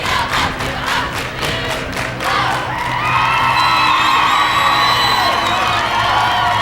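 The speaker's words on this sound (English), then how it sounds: "Montague fans trying to cheer their team on with that big 10-0 lead." Volleyball fans in a gym at a 1996 Class C high school final clap rhythmically, then break into loud sustained cheering and shouting, including young voices, filling the hall.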